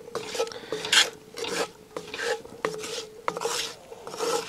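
A spoon scrapes and rasps across the bottom of a pot while beef short ribs braise, in repeated rough strokes with short pauses between them, close and fairly loud.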